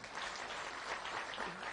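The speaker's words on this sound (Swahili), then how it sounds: "Asanteni sana waheshimiwa, tuwapigie makofi." Applause from a crowd at a political gathering at Embu University honours the county MCAs and MPs, a dense and steady clapping that lasts the whole short stretch with no voice on top.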